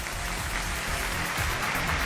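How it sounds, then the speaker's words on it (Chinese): Studio audience applause fills a Chinese television dating and relationship talk show, a steady dense wash of clapping that holds at even loudness for about two seconds with no voices over it. "掌声有请这一对，有请。"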